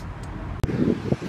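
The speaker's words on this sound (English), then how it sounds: "the wind is blowing pretty good" Wind blowing outdoors at a garden where marigolds are being planted, a steady low rumbling buffet against the microphone with a brief sharp gust spike partway through, no talking.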